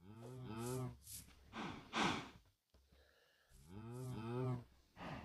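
Cows in the video game Minecraft give several drawn-out moos, loud and close, with a brief silent gap in the middle of the run.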